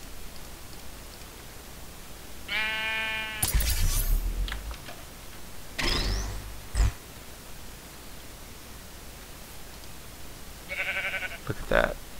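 A sheep in the Minecraft Feed the Beast modpack gives a few short, nasal bleats, spread apart among clicks and game noises against a quiet background.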